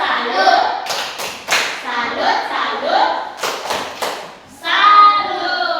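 Children in a first-grade classroom clap a rhythmic salute together, several short bursts of close, sharp group claps mixed with their chanting voices, ending in a louder sustained cheer.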